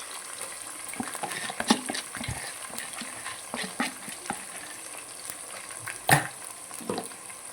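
Ginger garlic paste fries in hot oil in a pan, a steady sizzle broken by a few louder spatters and scrapes of stirring, with no talking.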